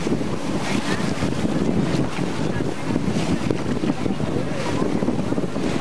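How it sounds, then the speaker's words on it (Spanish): Strong wind buffets a sailboat at sea in the Los Roques archipelago, a loud, constant roaring rush with waves and microphone wind noise throughout. "el viento está fuerte"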